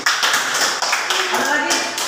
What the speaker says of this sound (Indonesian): Tepuk tangan untuk Elsie.